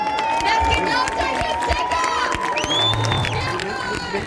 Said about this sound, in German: begrüßt ihn auf dieser Bühne mit dem fettesten Applaus, den ich mir hier vorstellen kann